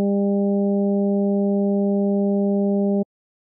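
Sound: synth tone from Ableton Operator additive synthesis, fixed frequency mode

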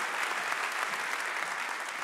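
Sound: church congregation clapping in praise

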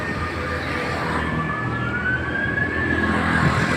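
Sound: ambulance siren

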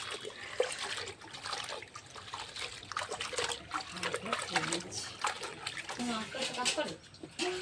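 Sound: washing leafy greens (lau shak) in water

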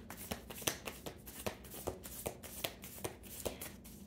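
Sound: tarot cards being shuffled

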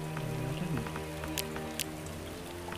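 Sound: rain in the video game Starbound

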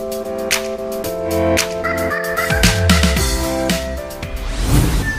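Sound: chickens and gamefowl stags at a breeding farm

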